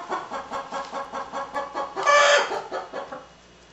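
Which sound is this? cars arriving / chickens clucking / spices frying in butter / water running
chickens clucking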